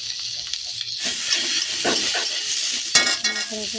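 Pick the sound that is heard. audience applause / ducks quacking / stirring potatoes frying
stirring potatoes frying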